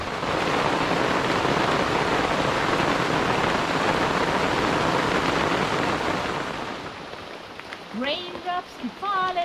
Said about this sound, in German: Das wird eine Regenfahrt bis Görlitz werden.